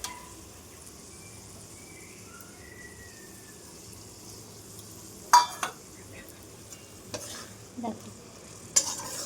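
Mustard paste sizzles in a pan of taro stolons with onion, a quiet steady frying hiss broken by several bursts of spatula stirring and scraping; one brief word is spoken.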